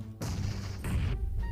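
A grenade goes off in the battle royale game PUBG Mobile, a dense, close blast that fills about a second with heavy low rumble and a crackling high crash, then drops away into quieter noise.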